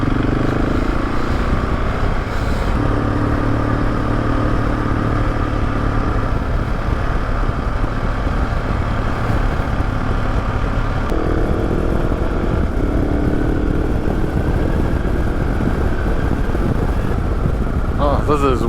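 A motorcycle rides a mountain trail in Colorado along the Continental Divide, its engine a constant loud drone with rumbling wind and road noise throughout.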